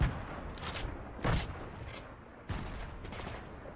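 A few bursts of Fortnite gunfire crack out at a distance, separated by short pauses, fairly faint.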